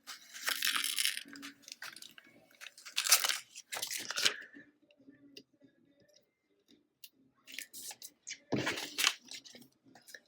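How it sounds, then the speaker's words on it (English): Transfer tape peeled off layered adhesive vinyl in close, crackly bursts of ripping and crinkling, with quiet gaps between the pulls and no talk. "once it is all scraped down, we can pull off our transfer tape"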